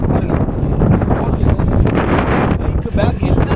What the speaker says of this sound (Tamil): அவ்வளோ ஹெவியாக காற்றடிக்குது